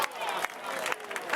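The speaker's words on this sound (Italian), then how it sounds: "un applauso." Audience applause at an outdoor summer beauty pageant in Novi Ligure, Italy, welcoming the town's mayor: a dense, steady patter of many hands clapping at moderate volume, with faint crowd murmur mixed in.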